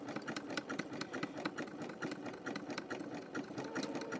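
A sewing machine stitches a coiled rope bowl with an oval eye shape. It gives a fast, steady, rhythmic clatter of needle strokes, close and continuous throughout with no talk.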